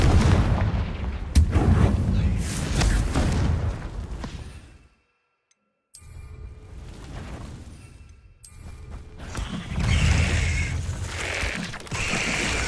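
Blasts and booms from Bombarda explosion spells in the video game Hogwarts Legacy, heavy and loud in repeated bursts with a short silent gap, mixed with clattering game effects.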